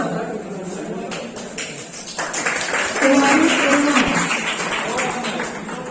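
An audience at an NSS Foundation Day celebration claps to welcome a student onto the stage, the applause swelling into dense, steady clapping partway through, with faint voices around it.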